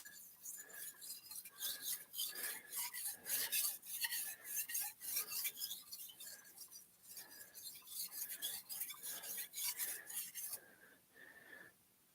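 A carbon steel knife is drawn across a whetstone in repeated rasping strokes with a steady rhythm, close and fairly quiet, with faint clinks between passes and no speech.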